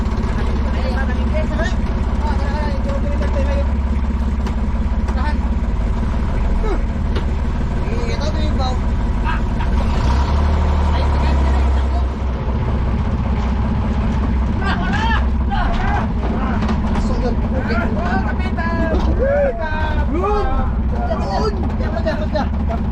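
A boat engine drones steadily throughout at sea, a loud continuous low rumble with several people talking and calling out over it.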